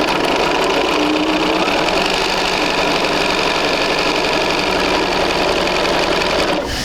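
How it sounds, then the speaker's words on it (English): A sewing machine runs steadily and loudly, stitching quilt units for a basic sampler quilt with white thread in one continuous close-up whir that stops at the end. "So let's go ahead and sew those."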